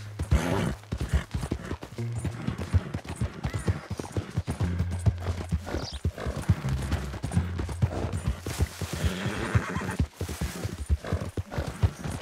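Horse hooves clip-clop at a steady rhythm throughout a ride in the Red Dead Redemption 2 video game, close and continuous.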